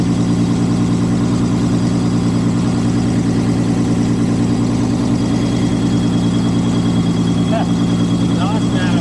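Loud, close idle of an M715 military truck engine with a cracked exhaust manifold, a steady low rumble that holds unchanged throughout.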